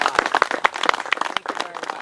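A small crowd at a Windmill Point Lighthouse gathering claps for a thanked guest, Mr. Joe Dumar, producing brief, scattered hand claps at close range, uneven and thin rather than a roaring ovation.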